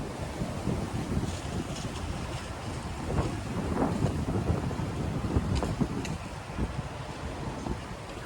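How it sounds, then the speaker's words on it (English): Strong, gusty wind blows outdoors in Tokyo, Japan, ahead of rain. It buffets the microphone with a continuous low rumble and roar that swells and eases for several seconds, with no talking. "the wind is really picking up, and that only happens before the rain falls"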